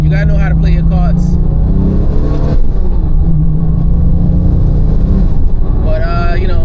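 A car drives along a road, its engine and tyre noise a loud, continuous low roar from inside the vehicle, with a person talking over it throughout.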